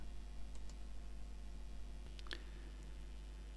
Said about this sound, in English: Then I click Next.